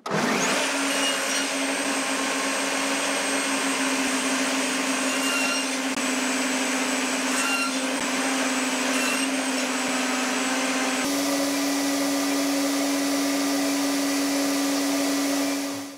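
A band saw with dust extraction cuts a 4 mm deep groove into clamped wood, giving a loud, steady whining drone that runs unbroken for about sixteen seconds with no talking.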